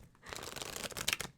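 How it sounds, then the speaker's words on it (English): A deck of tarot cards is shuffled in one quick, close burst of papery riffling and flapping that lasts just over a second, with no talk over it. "Gives me a chance to quickly shuffle my deck."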